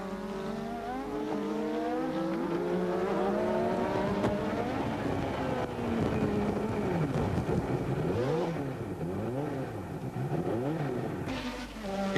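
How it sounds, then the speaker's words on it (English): A 1987 Formula One Brabham car's BMW turbo engine heard onboard as it fails, a loud continuous engine roar with wavering pitch that sweeps up and down before dropping away near the end. "this is what it saw when his BMW engine's turbo blew up"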